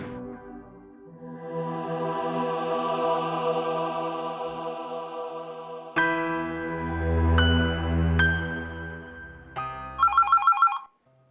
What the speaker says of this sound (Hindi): बघ, वर्षाचा फोन असेल